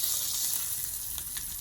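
Bacon sizzles steadily on a Blackstone flat-top griddle, a continuous bright crackle and hiss heard up close with no voices.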